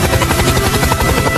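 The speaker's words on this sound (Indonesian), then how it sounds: "Helikopter tentara" A military helicopter heard close and loud, its rotor blades beating in a steady rapid thump with engine buzz, alone with no voices.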